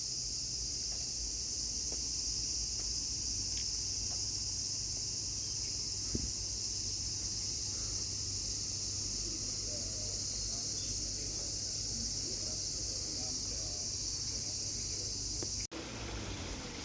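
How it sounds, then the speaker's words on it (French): Cicadas near Ueno Park in Tokyo drone in a steady, dense, high-pitched chorus that goes on without a break, with a faint outdoor hum underneath. "Des cigales de partout."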